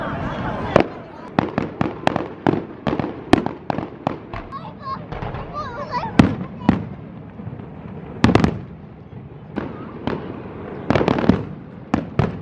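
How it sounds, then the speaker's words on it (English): Fireworks burst repeatedly over Brixham on a busy evening, sharp bangs and crackles coming in irregular clusters from a moderate distance, with people talking faintly in the background. "I have no idea where the fireworks are going off"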